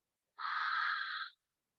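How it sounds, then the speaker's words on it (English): A single soft, steady ujjayi breath hisses through a constricted throat for about a second, close and quiet, with silence before and after. "there is a sound coming out of your throat"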